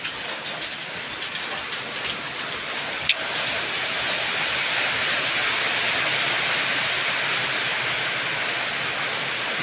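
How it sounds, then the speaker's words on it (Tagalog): Dense, steady hiss of heavy rain pouring down, with a sharp knock partway through, and the downpour swelling slightly louder afterward. "Lakas na ulan."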